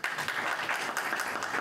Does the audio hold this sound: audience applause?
yes